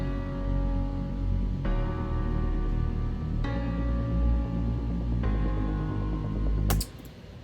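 Piano chords layered with a detuned stereo Nexus synth patch, a sustained chord held loud and steady and changing roughly every two seconds, ending abruptly in a brief click.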